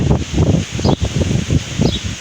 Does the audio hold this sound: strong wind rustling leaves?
yes